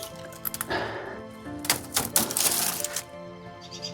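Pruning shears snip dead rose canes off a climbing rose trained on an arbor, giving several sharp, crisp clicks and cuts in quick irregular bursts, close to the listener, with no talking.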